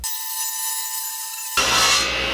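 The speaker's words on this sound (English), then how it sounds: "Now cherry is known to burn a little bit whenever going through a fast moving saw" Fast-moving power saw ripping a cherry wood board into narrow strips for a large picture frame, a steady close whine that breaks into a louder, rougher cutting roar partway through.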